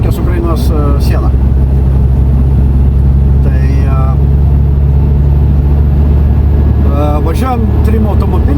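A steady, loud engine and road drone fills the cabin of a minivan travelling in a convoy with two minibuses, driving from Lithuania across Poland toward Ukraine, while someone talks over it throughout.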